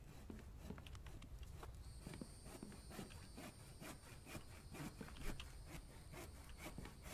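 Wood logs are sawn into boards in The Infected video game, with a steady back-and-forth rasping rhythm of repeated strokes and a faint high tone running through the second half.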